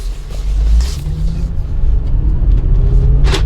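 A used Mercedes G-Wagon pulls away and drives around a corner, its engine a steady, loud, close rumble with low drone throughout and a couple of brief higher noises over it.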